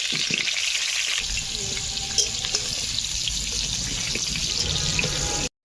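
Small whole potatoes fry in hot oil for a meat curry, a dense, loud and steady sizzling hiss close by that continues unbroken before cutting off abruptly.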